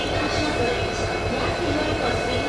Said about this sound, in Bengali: আর এই যে আমার ট্রেন দিয়েছে শিলিগুড়ি কারশেডের WDP 4D